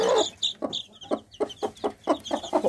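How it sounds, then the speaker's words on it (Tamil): A three-day-old chick peeps in a run of short, bright chirps with a steady, repeating rhythm, close and fairly loud. "இது 3 நாள் குஞ்சு."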